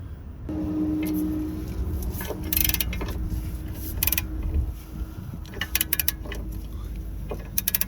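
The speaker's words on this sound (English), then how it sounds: "when we get it loose enough, we'll switch over to the ratchet" Ratchet clicks and mechanical rattling while loosening a bolt underneath a 2013-2018 Nissan Altima, with a steady low hum and scattered bursts of clicking, some loud and close.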